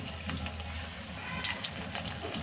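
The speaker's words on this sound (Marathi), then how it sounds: "ह्यामध्ये गरम पाण्याचाच वापर करायचा आहे, थंड पाणी नाही" Hot water poured into a spiced pea curry, shahi matar, gives a steady splashing, running pour with a bright hiss, heard close and fairly quiet with no talking over it.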